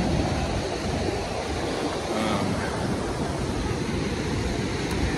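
Ocean surf at Santa Monica beach, a steady broadband wash of breaking waves rolling continuously and fairly loud throughout, with no voices over it.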